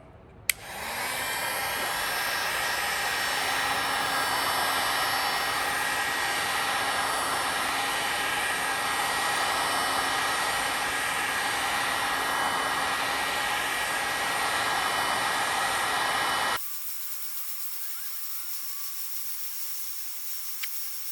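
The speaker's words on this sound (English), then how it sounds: "Now we've got a heat gun. Turn this thing on wide open." A heat gun set to high roars as a steady, loud broadband blast with a faint hum, running alone for about sixteen seconds before cutting off to a quieter background.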